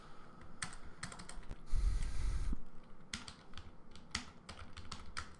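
Typing on a computer keyboard: close, quiet clusters of quick key clicks in irregular bursts with brief pauses, no voices.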